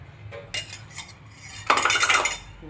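Ghee spooned into a pan, metal utensils clinking and tapping against the pan in several close, sharp bursts, the last one longer and louder, over a quiet background.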